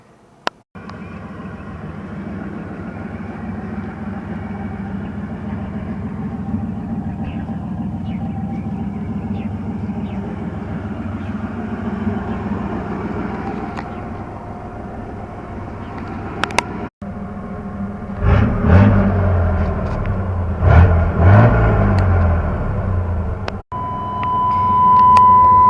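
A Chevy S10 pickup on 30-inch tires out on a test drive, its engine a steady low rumble from inside the cab, then the revving rising and falling near the end, with no talking.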